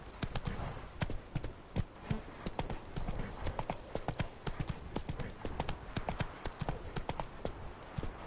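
Roach, the horse in The Witcher 3, gallops with fast, steady hoofbeats close up, filling the whole stretch alone.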